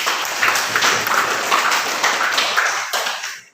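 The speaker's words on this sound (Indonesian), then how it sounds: "tepuk tangan buat semuanya" Loud, dense applause from a classroom group of students, many hands clapping close by in a continuous crackle that holds steady before cutting off near the end.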